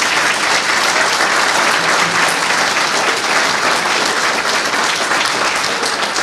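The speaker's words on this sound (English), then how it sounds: "Can we just give them a round of applause?" An audience at an evening awards event gives a loud, sustained round of applause, dense clapping from many hands continuing evenly throughout with no speech over it.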